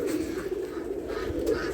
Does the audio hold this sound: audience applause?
no